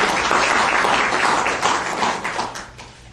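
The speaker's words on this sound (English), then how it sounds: "now we can applaud" Audience applause at an agriculture hall of fame induction ceremony, a dense wash of many hands clapping steadily for about three seconds before tapering off, fairly close and loud with no talking.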